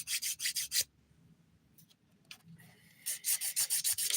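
Filing nails with the 100 grit side of a nail file: quick rhythmic rasping strokes in two bursts, close and crisp, separated by a quieter pause with faint handling noises.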